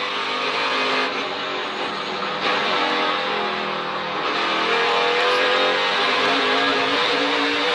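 NASCAR Camping World Truck Series trucks roaring on track during qualifying, a loud continuous engine drone with rising and shifting pitch as trucks run hard, heard on its own without talk.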